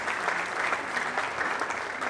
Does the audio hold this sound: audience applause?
yes